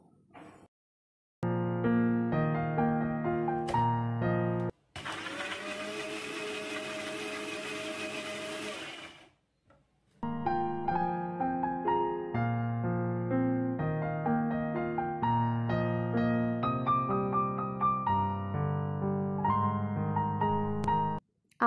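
A kitchen mixer grinder whirs as it blends four green chillies and a small quartered tomato into paste. One loud, harsh burst of about five seconds sits between stretches of tuneful music.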